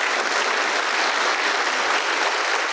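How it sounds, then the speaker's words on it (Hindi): Sustained audience applause from a large crowd at a public talk, a dense, steady roar of clapping hands that holds evenly at close range with no pauses or voices. "ताली मत बजाइए"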